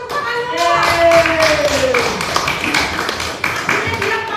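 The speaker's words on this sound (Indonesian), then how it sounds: "Kasih tepuk tangan dulu." Classroom clapping for a pupil who answered correctly, a short burst of many hands under children's voices and general room chatter.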